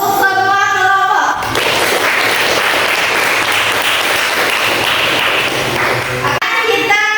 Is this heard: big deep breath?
no